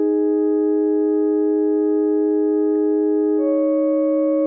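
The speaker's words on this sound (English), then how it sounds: "this is the original patch" A basic FM synth patch built from sine waves in Ableton Operator holds one steady, pure sustained tone with stacked harmonics. Near the end the timbre shifts slightly as a new note enters, clean and alone.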